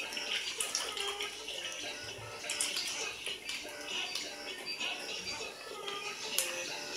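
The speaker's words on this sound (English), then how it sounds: "let me go ahead and wash my hands" Hands are washed under a running kitchen tap, a quiet uneven splashing of water with small knocks and shifts as the hands move, and faint talk in the background.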